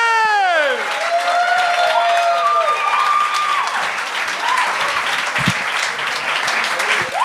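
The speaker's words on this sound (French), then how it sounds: "S'il vous plaît, on commence à applaudir." Studio audience at a televised comedy talent show bursts into loud, sustained applause with some cheering, continuous across the whole stretch while a host's voice carries over the top.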